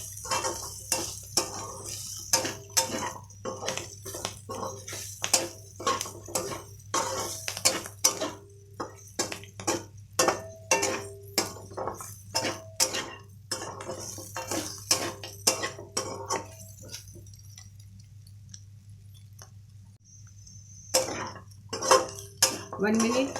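Metal utensil scrapes and clinks rhythmically against a pan while mutton fry is stirred with coriander powder, steady repeated strokes with a brief pause before resuming.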